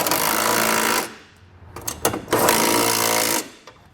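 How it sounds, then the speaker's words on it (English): A powered ratchet or impact tool runs on a 13mm socket, tightening frame bracket bolts under a vehicle for nerf bar mounting. Two loud, close mechanical bursts, each about a second long, are split by a short pause with some clanks. "I'm going to tighten down these 2 bolts here first"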